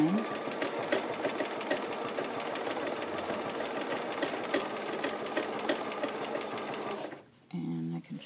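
A sewing machine stitches a slow, meandering line in a steady run of rapid mechanical needle strokes, close and fairly loud, then stops as a voice speaks at the end.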